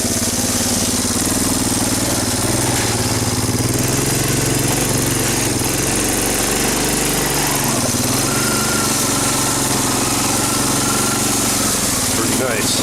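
A Honda engine runs steadily and loudly up close throughout, a constant mid-pitched drone with little change, while digging for druzy quartz in rocky ground; a voice is heard briefly over it.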